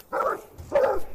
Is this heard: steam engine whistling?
no